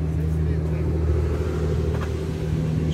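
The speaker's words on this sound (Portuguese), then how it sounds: "Motor 6 cilindros originais." An original six-cylinder engine in a 1963 Chevrolet Brasil truck runs at a steady idle, giving a continuous close low rumble with no clear revving.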